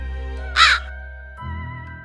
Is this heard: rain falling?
no